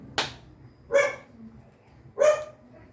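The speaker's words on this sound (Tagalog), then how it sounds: "Maingay aso." A dog barks three times, evenly spaced about a second apart, each bark sharp and moderately loud against a quiet background.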